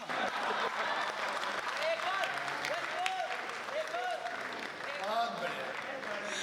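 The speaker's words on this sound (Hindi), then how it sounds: "सारे लोग ताली बजाओ" Audience clapping at a Hindi comedy poetry show, a broad wash of applause with a voice speaking or chanting over it, moderately loud and sustained.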